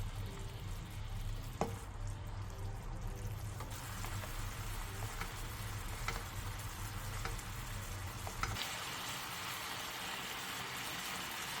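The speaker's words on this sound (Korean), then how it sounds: "양념이 잘 배이도록 앞뒤로 한 번씩 뒤집어주고 국물을 끼얹어가며 3분에서 5분 정도 졸여주세요" Soft tofu simmering in seasoning sauce over medium-low heat, a steady close bubbling and light sizzle throughout with a few brief clicks, the low rumble dropping away near the end.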